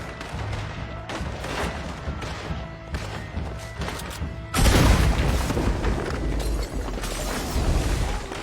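Explosion in the video game Red Dead Redemption 2 during a gunfight, with scattered gunshots and thuds followed by a loud booming blast and a rumbling roar that persists afterward.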